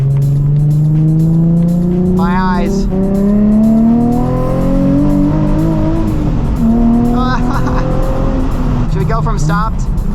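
Nissan 350Z HR on the road with a loud aftermarket-style exhaust, engine note climbing through the gears in rising sweeps with brief shift breaks, loud and close, while a voice briefly speaks over it.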